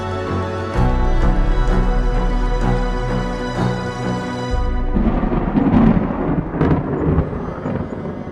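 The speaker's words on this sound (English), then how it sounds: "thunder roared and lightning flashed" Thunder sound effect in a dramatized Bible reading, loud rolling booms and rumbles with crackling peals, accompanied by sustained musical tones that cut out partway through.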